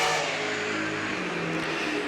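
Saloon race cars circling a speedway oval at Baypark, engines droning steadily at mid distance as they gather speed, a continuous rough motor roar with no clear passes or gaps.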